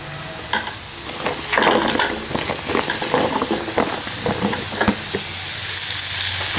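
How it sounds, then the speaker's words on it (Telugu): Moringa drumstick pods are tipped into hot oil with fried ginger and onion, giving a loud, close, continuous sizzle broken by scraping stirs and crackles. "అల్లం ఉల్లిగడ్డ వేసుకున్నాక ఫ్రై చేసుకున్నాక మనం కట్ చేసి పెట్టుకున్నాం ముల్లకాయలు మొత్తం అందులో వేసుకోవాలి"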